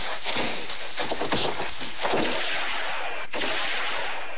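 Extremely loud gunshots in a Sergio Leone film, heavy booming blasts with long echoing tails that roll into one another, loud and dominant throughout, with no talking.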